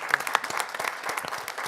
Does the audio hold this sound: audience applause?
yes